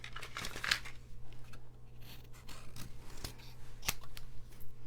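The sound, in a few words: cutting paper with scissors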